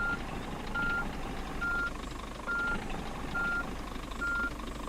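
Truck reversing a trailer, its reversing alarm sounding steady, evenly spaced beeps, six in a row, over a low engine rumble.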